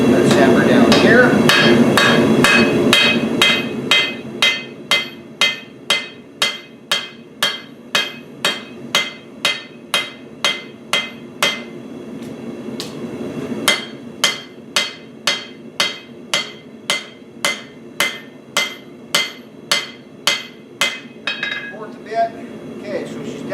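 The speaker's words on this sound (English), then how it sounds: "Let's hammer down here." Rapid, evenly spaced hammer blows ring out on heated metal being forged thinner, dozens of sharp clanging strikes in a steady rhythm with a short pause in the middle.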